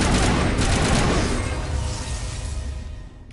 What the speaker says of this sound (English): Oh, this is a 3-round burst.